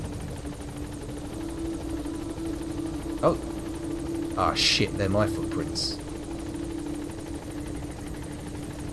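A helicopter in the video game Metal Gear Solid V drones steadily from start to finish, with a continuous rotor hum underneath. Someone speaks briefly over it.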